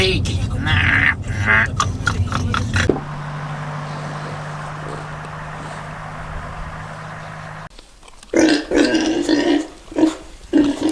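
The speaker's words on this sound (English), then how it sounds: "Here comes a pig!" A pig in the Sardinian mountains grunts near people who talk over it, with a steady engine hum in the middle stretch.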